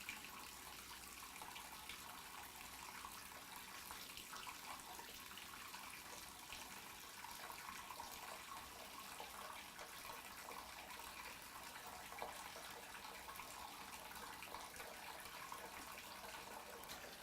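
Hot water pours steadily from the faucet of a 3921FB front tub, a constant broad rushing hiss that stays even and unbroken throughout, fairly close with no voices.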